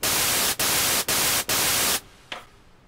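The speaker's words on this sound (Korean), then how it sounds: "일단 화이트 노이즈로 갈게요." Synthesizer white noise plays as four loud, flat bursts of hiss split by brief gaps, then drops away, leaving a faint tail and one small blip near the end.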